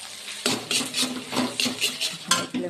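Soft, overcooked chowmein noodles being stirred and fried in a pan in a village kitchen, with repeated bursts of scraping and clattering from a utensil against the pan over a low sizzle, close and fairly loud.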